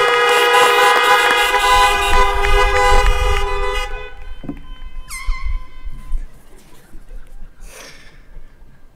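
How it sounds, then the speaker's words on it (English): Several car and truck horns honk outdoors at a 2020 high school commencement, a dense overlapping chorus of loud toots for about four seconds, then a few scattered, fainter honks trailing off. "Feel free to honk those horns for those guys."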